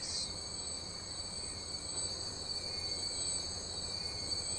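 Freight train rolling steadily on track in the video game Transport Fever 2, a continuous low rumble under a high sustained whine of wheels on rails, moderately loud throughout with no talk.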